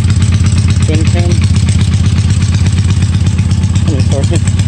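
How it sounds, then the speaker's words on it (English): A 1983 Honda 450 twin-cam two-cylinder motorcycle engine idles loudly and close by, with a steady, lumpy low throb throughout. "selling my 1983 Honda 450"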